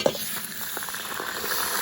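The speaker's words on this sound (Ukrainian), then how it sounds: "велику миску м'яса і смажимо нього пів години" Steady sizzling and crackling of meat frying in hot oil in a cast-iron kazan for plov, a dense continuous hiss with small pops, close and moderately loud.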